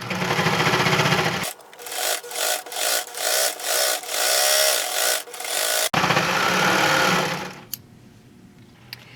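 A serger sews and trims the sides of a quilted bag, its motor running in a loud steady whir broken by several short pauses as the fabric is adjusted, then picking back up before stopping.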